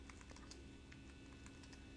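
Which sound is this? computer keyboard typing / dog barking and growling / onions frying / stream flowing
computer keyboard typing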